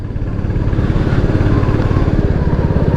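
A Royal Enfield Classic 350 motorcycle engine idles close by with its tappets freshly adjusted, giving a loud, even thump that pulses steadily throughout.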